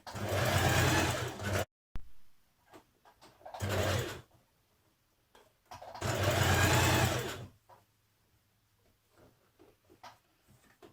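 A sewing machine topstitches a blouse sleeve from the outside, sealing in turned-under raw edges, in three loud bursts of steady running separated by pauses with small clicks and handling noises.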